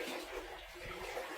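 Floodwater rushes in front of a house, a steady hissing wash of flowing water that continues without pause; no speech.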